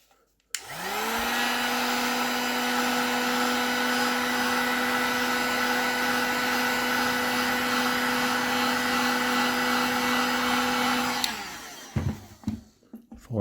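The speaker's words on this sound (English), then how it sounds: "So let's just finish that off with the heat gun" A heat gun shrinks heat-shrink tubing on a 3 bar MAP sensor extension cable for a Miata MX5 NC turbo build, blowing as a steady, loud whine and whoosh for about eleven seconds before clicking off, followed by brief handling noises.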